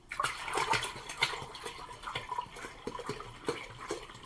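Water pours from a jug into the top reservoir of a PROPUR gravity-fed, non-electric water filter, a steady splashing gush with small bursts and gurgles throughout, close and moderately loud.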